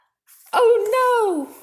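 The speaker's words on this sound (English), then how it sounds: "Sneezing." A single voice acts out one exaggerated sneeze during a children's picture-book reading: a short breathy intake, then a drawn-out, falling vocal burst, close and clear with nothing behind it.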